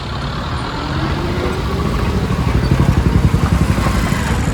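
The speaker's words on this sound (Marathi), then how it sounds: "हा ट्रक मध्येच बंद पडलाय त्याकरता एवढं ट्रॅफिक झालंय" Roadside traffic builds up behind a broken-down truck: engines of trucks and motorbikes rumble loudly nearby, with a throbbing idle pulsing more strongly toward the end.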